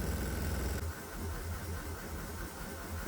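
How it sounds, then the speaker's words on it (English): A diesel engine running with two vaporizers fitted hums at a steady idle, a faint low rumble with an even, throbbing pulse, alone and unchanging throughout. "I'm also hearing a knocking sound from the engine"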